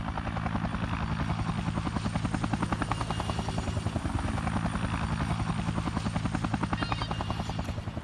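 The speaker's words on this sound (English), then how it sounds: "There's a helicopter." Helicopter in the video game Dead Rising Deluxe Remaster, its rotor thumping in a fast, steady pulse with a droning engine, loud and continuous.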